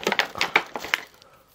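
Crinkly plastic and cardboard packaging around a set of small cleaning brushes with a charging cord is handled close by, giving a run of sharp rustling crackles and taps that tail off after about a second.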